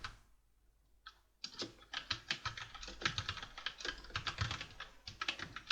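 Keys clatter on a computer keyboard, a few isolated taps at first and then a quick, continuous run of close, crisp keystrokes.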